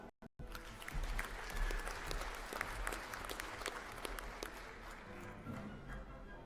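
A large crowd applauds at a university graduation ceremony after degrees are conferred, steady distant clapping filling the hall, fairly quiet and continuous.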